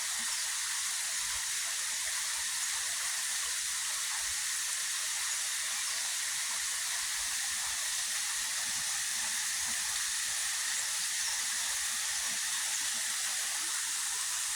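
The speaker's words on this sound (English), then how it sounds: "Oh, that's a neat little waterfall." A small waterfall in a Hawaiian tropical forest reserve gives a steady, even rushing hiss that never changes for the whole stretch, with no voices.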